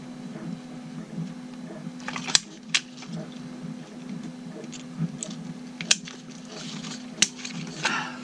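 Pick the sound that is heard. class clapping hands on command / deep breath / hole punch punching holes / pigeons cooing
hole punch punching holes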